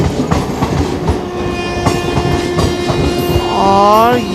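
Deccan Queen Express pulling out of a Mumbai-area station, rhythmic clickety-clack of wheels over rail joints under a sustained horn that swells near the end, close and loud.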